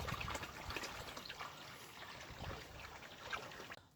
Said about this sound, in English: I'm just going to pop some water in this and we'll start that self-watering process